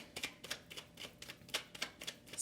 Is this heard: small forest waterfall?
no